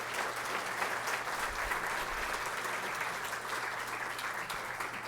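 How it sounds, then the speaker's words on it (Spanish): Sustained applause from the audience for the panelists at a discussion event, a dense, even wash of clapping that holds steady from start to finish with a faint low hum underneath. "un fuerte aplauso para nuestros panelistas"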